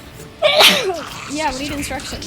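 A loud, sharp sneeze bursts out once near the start in a Warhammer 40,000: Space Marine II gaming session, followed by ordinary talk.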